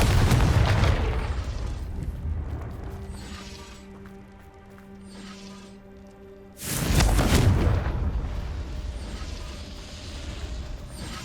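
A Confringo spell explosion in Hogwarts Legacy: after a stretch of quiet ambience with a low tonal hum, a sudden loud blast erupts about two-thirds of the way through and rumbles on to the end.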